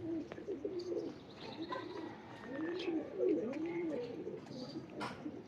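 Pigeon cooing, a prized and expensive bird, repeated soft rolling coos over several seconds, moderately near, with faint chirps and light background noise.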